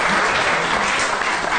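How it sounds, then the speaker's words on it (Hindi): A studio audience claps at a Pakistani morning talk show, dense sustained applause that is loud and close, with no speech over it. "पा पूना के लिए ताली है।"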